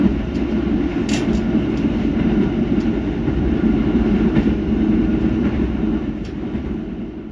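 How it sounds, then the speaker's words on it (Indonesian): Wijaya Kusuma executive-class train arriving at Kertosono station, heard from on board as a continuous heavy low rumble of wheels on rails with faint clicks and brief metallic squeals, steady throughout and easing slightly at the end. "Perjalanan kereta Wijaya Kusuma tiba di stasiun Kertosono."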